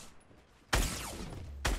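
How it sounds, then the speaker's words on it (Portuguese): Two loud gunshots in the video game Fortnite, one sharp blast with a ringing decay followed by a second shot about a second later, close and prominent with no talk. "Vou dar um tiro de longe."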